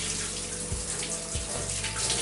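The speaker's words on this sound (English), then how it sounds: "But first, we have to wash our hands as well." Hands being washed under a running kitchen tap before cooking homemade wraps, a steady close rush of water with slight changes as the hands move through the stream.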